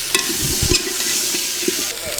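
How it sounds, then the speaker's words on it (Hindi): Vegetable curry sizzling in a pan after tempering, cooked outdoors in a village, with a steady frying hiss and intermittent stirring scrapes close by. "मतलब छौंक तो दिया है, ये बनती रहेगी।"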